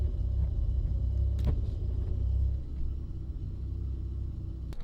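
A Mazda RX-7 FC idles with a steady low rumble close by, with a couple of faint clicks and a slight drop in level partway through, and no talk heard.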